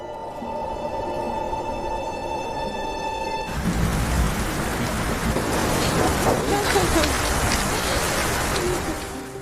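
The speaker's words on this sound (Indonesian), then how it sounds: "Kemudian hujan datang." Rain pours down in a film scene, a dense steady hiss that takes over after a few seconds of soft music and stays loud and even to the end.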